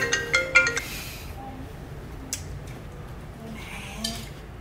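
A mobile phone ringtone plays in a Vietnamese romance film scene, a few bright chiming tones at the start that fade into quieter, sparse beeps over a low room hush.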